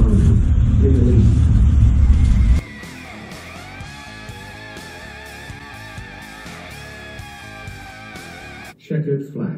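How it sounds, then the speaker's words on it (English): Porsche RSR race cars in a racing video game, engines droning and revving steadily with shifting pitch, joined at the start and end by louder low rumbling, with a voice talking over it. "these Porsche RSRs, even without the magnets, handle really well"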